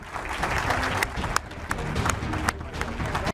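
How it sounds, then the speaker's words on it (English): A crowd applauds at a dual retirement ceremony for two football players, a steady wash of clapping from a large gathering with a few sharper individual claps standing out. "ladies and gentlemen, with your applause, will you congratulate one more time the 58 and the 88, Thomas Davis and Greg Olsen."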